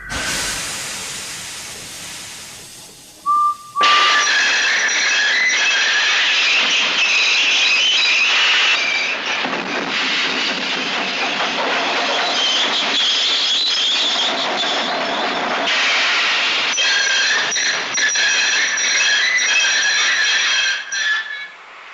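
Steam locomotive effect, a continuous loud hissing chuff with a brief shrill whistle near the start, sustained rushing steam filling the scene alone.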